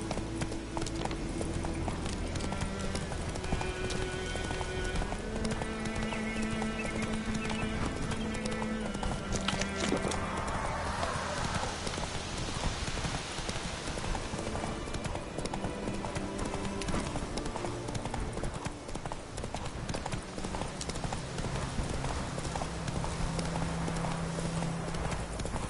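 Geralt's horse Roach gallops in The Witcher 3, with steady rapid hoofbeats running throughout over a dense game soundscape of music and ambience, loud and close, with a brief voice near the end.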